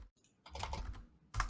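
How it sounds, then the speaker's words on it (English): Fingers tapping on a computer keyboard nearby, a quick burst of clicks, a short pause, then another cluster of keystrokes, with no voices. "people on the fucking audio are just gonna hear us typing"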